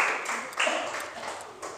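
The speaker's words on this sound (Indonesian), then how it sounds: "Beri tepuk tangan untuk kelompok 1" Students in a classroom clap for a group that has just finished presenting, a steady patter of applause that rises briefly partway through and carries on at moderate level with some voices mixed in.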